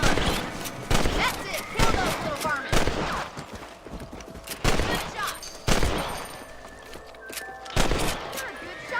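Rifle shots ring out in Red Dead Redemption as rabbits raiding farm crops are picked off, a string of sharp, loud cracks at irregular intervals with hoofbeats and voices talking in between.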